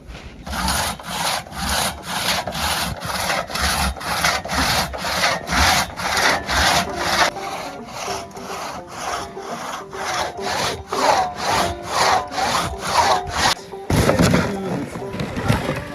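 A six-foot two-man crosscut saw rasps through firewood in a winter bushcraft camp, with steady rhythmic push-pull strokes about twice a second, close and loud, ending in a heavier thud near the finish.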